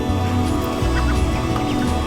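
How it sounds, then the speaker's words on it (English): Ducks and ducklings honk and quack steadily while being herded in a barn, loud and close, a dense overlapping chorus with a constant low background drone. "let's get Betty and Don in here and the last of the ducklings"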